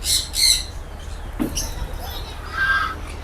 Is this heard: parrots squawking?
yes